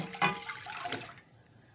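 A second cup of water poured into a cooking pot for meat gravy and rice, a short splashing gush that fades out after about a second.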